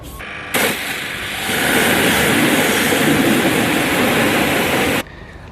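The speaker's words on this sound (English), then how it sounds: "spray it over the whole wheel, and let it take off the majority of the dirt and jet wash it off" A pressure washer jet blasts dirt off a car wheel, a loud, steady roaring spray that starts abruptly, holds for several seconds and then cuts off.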